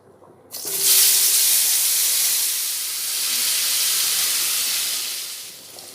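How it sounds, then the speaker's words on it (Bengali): Cut potatoes dropped into hot oil in a pan with a little turmeric for a Bengali chicken dish, giving a sudden loud burst of sizzling that settles into a steady, close frying hiss, with no talk. "তো এই আলুগুলি গরম তেলের মধ্যে দিয়ে দেব।"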